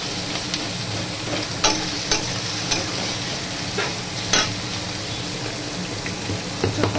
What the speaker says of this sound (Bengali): কিছুক্ষণ ওয়েট করতে হবে পেঁয়াজটাকে একটু ভাজা হওয়ার জন্য